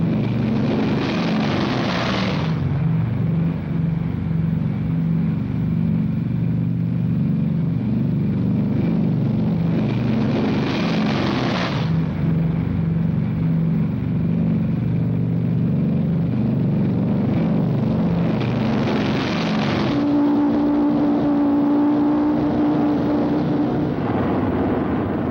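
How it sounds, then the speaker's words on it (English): World War II B-29 bombers taking off one after another, a heavy roaring propeller engine drone that swells and fades as each plane passes, loud and steady, with a separate engine tone near the end and no talk. "B-29 takeoffs are a tough sweat"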